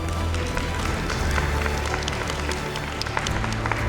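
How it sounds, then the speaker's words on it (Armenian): An audience at a children's game show applauds departing young participants, a steady wash of many hands clapping that holds evenly throughout, with faint voices in the background. "մի հատ կուզեմ բոլորին բարձր ծափարենք"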